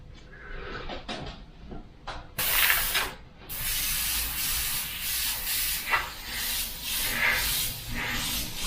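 A steady airbrush hiss sprays pearlescent ink over black continuously after a couple of seconds of quiet handling noises, with slight surges in the flow.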